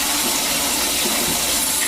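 Water rushes and gushes steadily through aquarium gravel being rinsed, a loud continuous splashing flow with no pauses and no voices.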